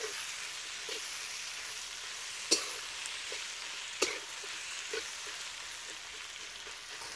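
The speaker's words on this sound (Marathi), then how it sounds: "आता त्यात कांदा आणि टोमॅटो टाकून घेणार आहोत. हे पण कमीत कमी 2 ते 3 मिनिटं परतून घेणार आहोत" Onion and tomato sauté in a pan for Konkani-style prawn rice, a steady soft sizzle with a few sharp scrapes and clicks of the spatula, close and without speech.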